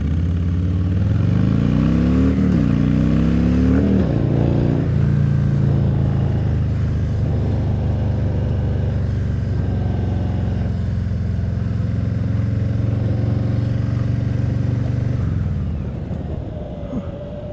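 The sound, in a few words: Harley motorcycle riding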